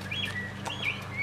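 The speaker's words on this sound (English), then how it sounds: "the two birds in the middle each have their own little slide whistle down on a box tied to a hose that goes into the cavity of the bird" Two 1874 antique automaton singing birds, each driven by its own slide whistle fed through a hose, give faint warbling, gliding chirps over a low mechanical hum inside a museum.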